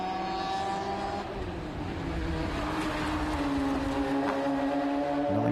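Radical race cars compete at Brands Hatch with a continuous high-revving engine whine whose pitch climbs and shifts. Several cars sound close together, the roar is loud throughout, and there is no speech.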